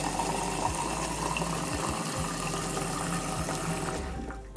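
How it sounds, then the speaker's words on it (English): Well water pours continuously into a brand-new fish tank already lined with pebbles, a steady close gushing and bubbling fill that runs the whole time before easing slightly at the end. "now that we've finished adding the pebbles, we're gonna fill it up with water."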